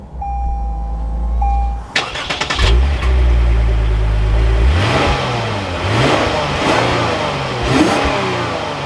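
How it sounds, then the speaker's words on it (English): A 2024 Lexus IS 350 F Sport engine cranks and catches with a sharp start-up flare, settles to a low idle, then rises in several loud throttle blips, the revs climbing and falling back close by. "let's fire it up and take a listen to this IS 350"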